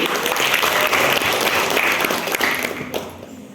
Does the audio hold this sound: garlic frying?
no